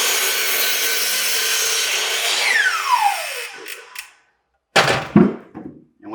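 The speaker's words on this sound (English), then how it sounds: "we're going to use the miter saw" A miter saw slices through a wooden board with a loud, steady whine that winds down as the blade slows, then goes quiet before a few sharp knocks and thuds of wood being handled.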